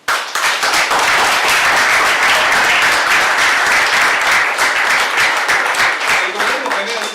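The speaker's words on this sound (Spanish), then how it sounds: "El coronel Mohamed Ali Zeneldin, para que también pida un aplauso." An audience at a lecture on Chinese neocolonialism in Argentina breaks into sustained, dense applause, loud and close, lasting several seconds before tapering slightly at the end.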